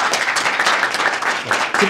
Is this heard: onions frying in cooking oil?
no